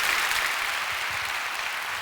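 Steady, dense applause from a church congregation clapping together before worship, sustained at a moderate, even level from start to finish.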